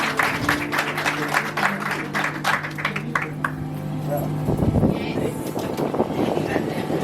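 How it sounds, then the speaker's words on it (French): Wedding guests at a civil marriage ceremony in Gabon break into loud, sustained applause that swells midway, with voices mixed into the crowd noise. "On applaudit très fort, s'il vous plaît."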